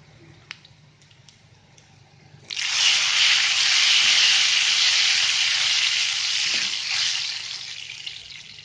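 Chili and cumin dropped into hot oil for a dal tempering, bursting into a loud, steady sizzle that starts abruptly after a few quiet moments and fizzes on continuously, easing slightly toward the end.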